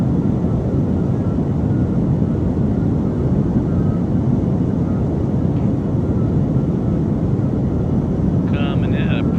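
Flysimware Cessna 414 twin engines in the MSFS flight simulator on a full-flaps landing approach, a steady loud broadband drone that stays even throughout, with a faint chime near the end.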